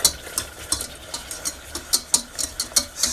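Vegan cream sauce being stirred in a hot pan, a steady run of quick, bright scraping strokes repeating roughly every third of a second over a low simmering hiss, close and fairly loud with no voices.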